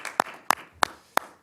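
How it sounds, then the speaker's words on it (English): Four sharp, separate claps ring out at a county commissioners meeting, spaced evenly and fairly faint in a quiet room, with no crowd swell behind them. "Round of applause"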